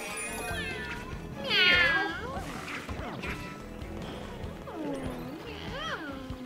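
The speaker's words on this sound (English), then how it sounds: "I bet we got more kitty cats." Cat enemies in Super Mario 3D World meow repeatedly over game music, with a loud burst of meowing near the start and more cat cries toward the end while a person talks.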